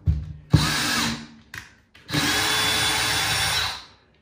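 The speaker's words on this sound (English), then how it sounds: "I'm going to use a 2-inch screw." A power drill drives a 2-inch screw down through a floor into a joist to stop squeaks, whining in two bursts: a short run, a pause, then a longer sustained spin that winds down, with no talk.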